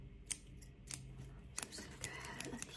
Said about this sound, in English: So I have these smaller scissors that I'm gonna use just to detail it all up, fix it up a little bit.